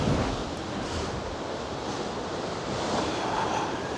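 Heavy sea surf crashes and roars against the Blackpool sea defence wall in rough, savage tides, a constant loud wash of breaking waves mixed with gusty wind buffeting the microphone.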